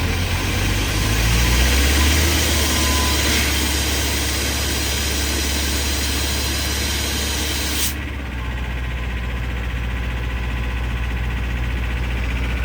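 A vehicle engine idles steadily in cold, snowy country weather after starting, a loud continuous low drone with a brief shift in tone partway through, and no talking.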